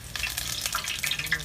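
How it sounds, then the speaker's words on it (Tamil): Curry leaves drop into hot oil in a pan while squid masala is being made, giving a lively burst of crackling and sputtering sizzle with sharp pops, close and fairly quiet, with no talking. "எண்ணெய் சூடாயிட்டு கறிவேப்பிலை போடுறோம்"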